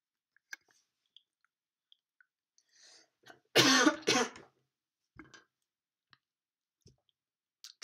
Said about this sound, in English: I'm coughing all over the place here.